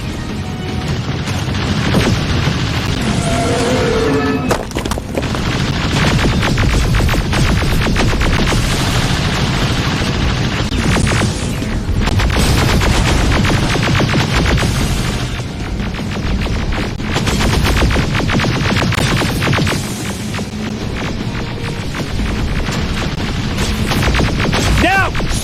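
Combat in Terminator Resistance: continuous loud gunfire and blasts layered with rumbling booms and crashing debris, dense and chaotic throughout with no pause.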